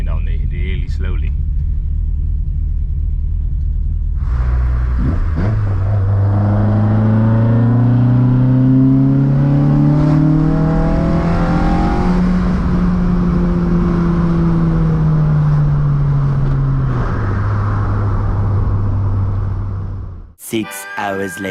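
A Volkswagen Golf MK2 GTI 16v drives down Red Hill Road, its engine droning and rising through revs, then easing off and holding a steady cruise, close and loud with road rumble underneath.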